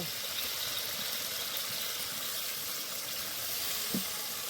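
Sesame paste frying with spices in a pan sizzles steadily as water is poured in, a close, even hiss that runs the whole time with no voices.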